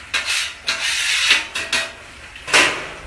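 Water thrown onto a hot Blackstone griddle hisses into steam in several sharp bursts, each flaring loud then fading, with faint clatter and scraping between the hisses.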